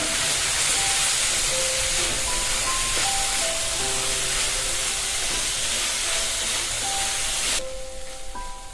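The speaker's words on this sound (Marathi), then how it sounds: "कॉर्न परतून घ्या चांगलं" Corn kernels sautéed and tossed in a hot pan make a loud, steady sizzling hiss that runs the whole time. Faint melodic tones sit beneath it, and the hiss softens slightly near the end.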